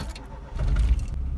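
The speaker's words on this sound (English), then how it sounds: "Start the car." A car engine being started, a short low rumble building up close by after a faint jingle of keys.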